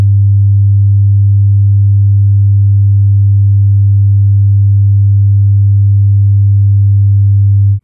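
A steady 100 Hz sine tone run through the SSL X-Saturator plug-in at default settings, a loud constant low hum with a faint added harmonic, unchanging for about eight seconds before cutting off.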